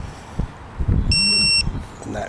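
A single high electronic beep from a torque wrench reaching 181 newton meters on a Honda Jazz driveshaft repair rings for about half a second, with a voice speaking before and after it.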